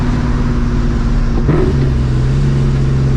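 A supercharged New Edge Mustang GT with a Vortech V1 Ti-Trim supercharger drones loudly and steadily up close while driving, then the engine note shifts midway as it revs with a rising supercharger whoosh.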